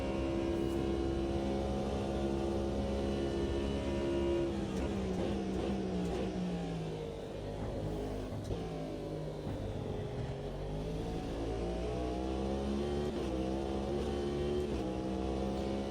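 A race car engine in the racing game Automobilista 2 revs and drones continuously, rising and falling in pitch through gear changes, loud and close throughout with no talking.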